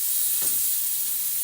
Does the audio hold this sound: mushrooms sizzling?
yes